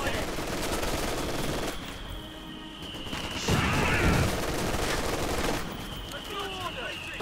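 MG42 and Vickers machine guns rattle across a Company of Heroes 2 battlefield in dense, continuous bursts, layered with distant battle noise and a brief thud in the middle.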